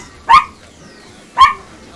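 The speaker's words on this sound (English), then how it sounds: "More barking." A dog barks twice, two sharp loud yips about a second apart, close and clear over a quiet background.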